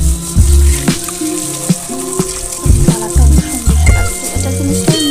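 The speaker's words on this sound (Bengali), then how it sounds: "ভাজা হচ্ছে, এখন কম আগুন লাগে এই জন্য এই চুলায় দিয়ে দিলাম।" Beef spleen fries with onions in a pan on a low flame, giving a loud, close sizzle with repeated clatters and scraping knocks from stirring throughout.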